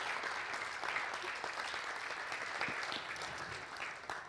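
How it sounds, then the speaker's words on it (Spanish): A church congregation applauds a pastor during a Sunday service, steady dense clapping that holds at an even level for several seconds, slightly distant in a large room, with no talking over it. "Yo quisiera que le dé un fuerte aplauso a pastor Ernesto"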